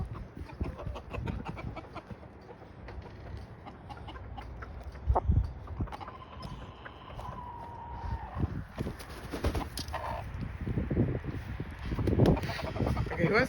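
Backyard chickens cluck in a flock being fed a mouse brought in by cats, with scattered soft calls over rustling and a person talking nearby.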